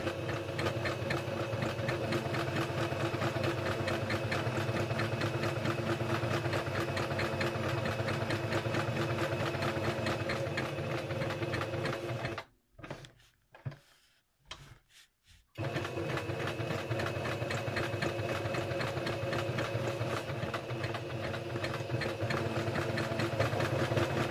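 A Singer sewing machine stitches a cloth pad in a long, steady, close whir that stops for about three seconds in the middle, with a few stuttering bursts, then runs on evenly.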